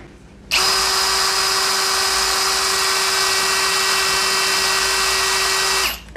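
A DCA ADJZ03-13EM cordless hammer drill runs at speed setting 1, a close, loud, steady motor whine that starts abruptly, holds an even pitch for about five seconds, then stops.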